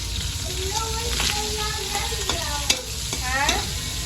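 Pork sizzling in a pan as garlic and onion go in, with steady frying hiss and occasional stirring scrapes, close by, while people talk over it.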